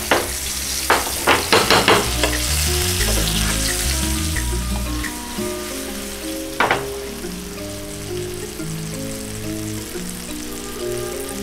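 Pomfret and kingfish (surmai) pieces fry in a pan with a loud, continuous sizzle. Sharp crackles burst out at the start as the fish is flipped, and then it settles into a steady frying hiss with no talking.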